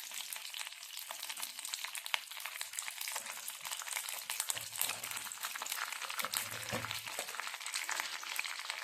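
Mustard seeds frying in oil as a tempering alongside curry leaves, with a continuous close sizzle and crackle and occasional low stirring scrapes, no talking.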